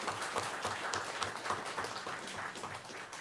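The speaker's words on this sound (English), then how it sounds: "So we're applauding for all of his effort, his energies" An audience at a school district board meeting applauds steadily, a dense patter of many hands clapping at moderate volume for the full length without pause.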